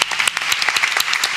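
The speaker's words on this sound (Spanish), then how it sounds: "sisplau, un aplaudiment" An audience at a tourism panel in Sitges claps briefly, a close, dense burst of many hands with sharp individual claps standing out, loud and lively throughout.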